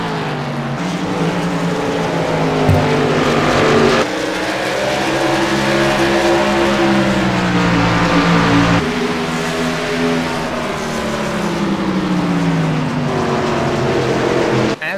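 Pickup trucks race in a NASCAR-style truck series event at Richmond, engines droning loudly and continuously with rising and falling pitch sweeps as trucks pass, dense and steady throughout.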